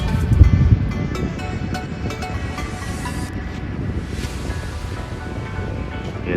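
Steady surf washes and rumbles under strong wind buffeting the microphone at the Jeddah seafront, Saudi Arabia, a continuous roar of sea and air.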